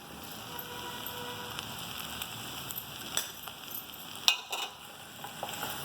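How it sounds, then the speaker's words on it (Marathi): Stir-fried pumpkin with jaggery and grated coconut stirred in a pan, a soft steady sizzle with faint scraping and a few light clicks of the spoon, fairly quiet and close, without any talk. "हे सगळं सारखं करून घेऊ."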